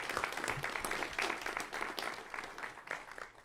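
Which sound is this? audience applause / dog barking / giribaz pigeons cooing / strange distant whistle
audience applause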